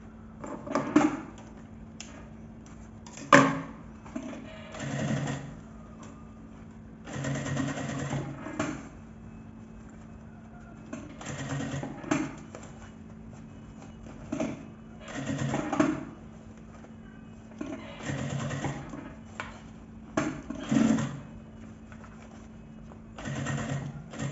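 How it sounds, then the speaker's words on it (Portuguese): A sewing machine stitches a fabric shoulder bag in repeated bursts, each run of rapid mechanical whirring separated by short pauses, with occasional clicks and knocks between. "Então, vou costurar aqui toda a volta e concluir essa parte aqui de cima."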